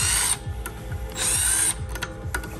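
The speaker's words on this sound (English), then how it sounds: "I'm gonna grab another impactor here. This has got a 5 millimeter impact driver bit on it." Impact driver with a 5 mm bit removing cylinder head bolts on a motorcycle top end: short bursts of rapid hammering whir alternate with ratcheting clicks, close and loud.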